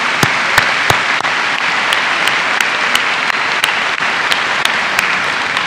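Steady, dense applause from a large crowd at a university commencement ceremony, loud and continuous throughout with sharp individual claps standing out.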